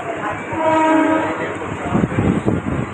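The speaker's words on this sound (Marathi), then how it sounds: "ट्रेन आलेली आहे" A train rumbles into Masjid railway station at close range, a horn tone sounding over the rolling noise before clattering wheels take over.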